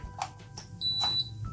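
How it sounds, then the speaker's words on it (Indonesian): A Cosmos 16 WFGR wall fan gives a single high electronic beep on being plugged in, a clear steady tone lasting under half a second, with a click before it and quiet room sound around it. "Nah ini ketika dicolokkan dia akan bunyi bip ya."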